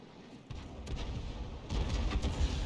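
Heavy booming impact as a Tier 7 American tank destroyer takes a direct hit in World of Tanks, a sudden thump followed by rumbling, echoing battle noise that swells toward the end.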